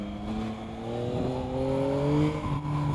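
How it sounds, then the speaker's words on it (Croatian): A motorcycle ridden along a road, its engine droning steadily with rising and falling pitch as it accelerates, close and continuous with no one talking. "Kako ide ovaj motor."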